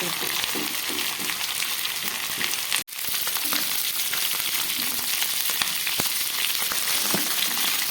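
Potato, cauliflower and pointed gourd frying together in a large pan, a dense continuous sizzle and crackle with occasional stirring scrapes and a momentary break, close and loud.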